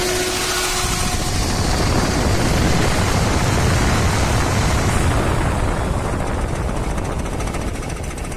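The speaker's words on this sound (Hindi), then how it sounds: "सही टाइम पे फैन घूम भी रहा है और घूम के इंजन ठंडा होने के बाद बंद भी हो रहा है।" The radiator cooling fan on an overheating Tata Magic Express runs close by after the engine heats up, a loud, steady, dense rush of air and engine roar that holds unbroken for several seconds.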